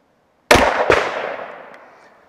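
A single loud, close 10mm shot from an M&P 2.0 pistol firing a 180 grain load, with a sharp crack and a long ringing decay as it echoes across an outdoor range.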